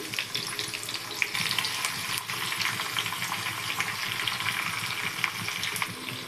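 Mustard seeds and half an onion frying in oil in a pan give off a steady, close, hissing sizzle with a faint watery bubbling underneath, and no one speaks.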